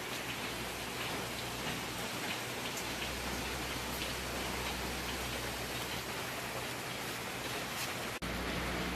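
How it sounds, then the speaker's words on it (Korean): Heavy rain pours down in a dense, constant roar, drumming on nearby surfaces, including tin sheeting, without a break. "참 지금 막 비가 엄청 오네요"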